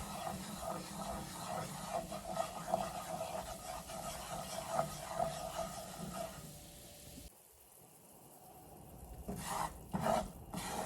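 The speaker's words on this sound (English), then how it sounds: "you want to cook this flour in this oil" Flour being stirred into hot oil in a pan, a quiet continuous scraping and sizzling with rhythmic strokes, pausing briefly before a few louder scrapes resume.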